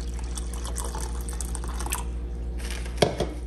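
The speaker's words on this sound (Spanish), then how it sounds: "Le voy a agregar agua" Water poured into a measuring cup to make up a litre of gelatin mix, a steady close trickle and splash over a low hum, ending with a sharper clunk and a few drips.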